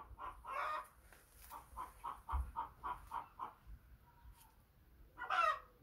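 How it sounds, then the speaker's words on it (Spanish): A hen in a farmyard clucks loudly in a rapid run of evenly spaced cackles, pauses briefly, then lets out one more loud squawk close by. "Y ahora se tiene que poner la gallina ahí a do de pecho"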